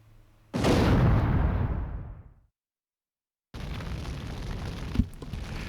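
A big explosion engulfs a Chinese restaurant in the BlazBlue game, a sudden loud roaring boom that rumbles and decays over two seconds, then near silence before a rushing ambient wash with a sharp knock returns.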